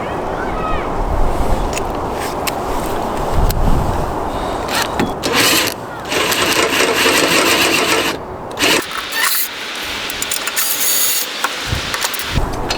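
An impact gun with a 12 mm deep socket runs against an antenna mount nut, giving a loud mechanical whirring and ratcheting buzz in several bursts, with a voice heard between them.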